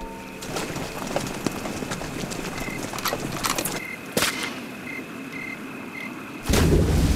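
A horse's hooves clop in irregular steps at moderate distance amid outdoor ambience, with a sharp bang partway through and a louder rumbling burst at the end.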